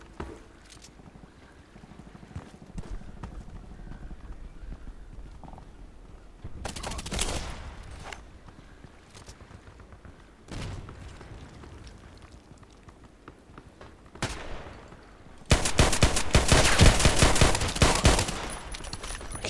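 Gunfire in the shooter game Contract Wars: scattered bursts of shots, some distant, building to a loud sustained rapid volley near the end over a low background rumble.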